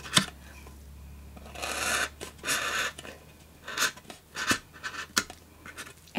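Scissors or a blade cutting through material for a craft birdhouse, heard as close, intermittent scraping and snipping strokes in irregular bursts with quiet gaps between.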